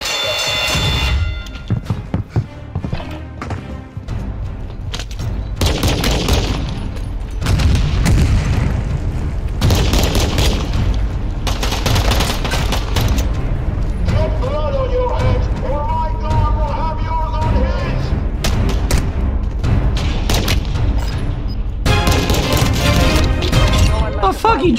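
Video game pistol gunfire: bursts of loud shots and booming impacts come in uneven clusters, with people talking excitedly over the action.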